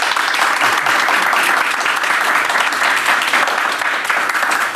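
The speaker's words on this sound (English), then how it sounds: "Would you please give a big round of applause to our good-looking globe-trotting duo, Jeannie and Janez." An audience applauds for the globe-trotting duo Jeannie and Janez, a dense, steady wash of many hands clapping close by with no talk, holding at full strength for several seconds.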